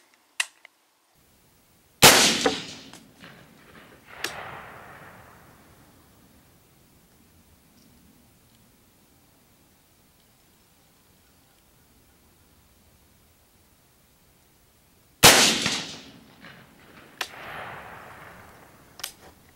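Two sharp rifle shots fired at a target while sighting in a scope, each a loud crack with a rolling echo decaying over a few seconds, separated by a long quiet gap.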